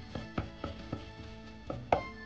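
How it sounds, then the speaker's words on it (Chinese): A kitchen knife chops crushed ginger and garlic on a board: about eight sharp, close knocks in an uneven rhythm, with a short pause before the last strikes. "把生姜先拍破，大蒜也是拍破，然后再剁碎。"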